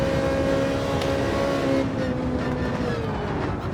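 Ferrari GT3 race car in Gran Turismo 7 accelerating hard, a loud continuous engine note climbing in pitch and then easing through a shift, with no voices over it.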